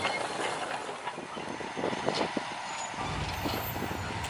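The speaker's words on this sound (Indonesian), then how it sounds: "lokomotif melanjutkan perjalanan dengan menyusuri area persawahan" A locomotive hauling sugarcane lorries rolls along a narrow-gauge track past rice fields, a steady low rumble with faint clattering and a brief heavier surge near the end.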